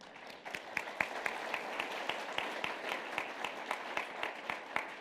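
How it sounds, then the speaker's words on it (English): Audience applause at a judges and journalists symposium, a fairly quiet, distant patter of many hands clapping at an even pace throughout, with no talk over it. "I got the applause already."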